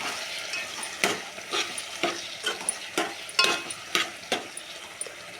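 Ginger frying in a pan for a drumstick and tomato curry, a steady sizzle broken by repeated scraping stirs at a brisk, irregular rhythm, close and fairly loud with no talking.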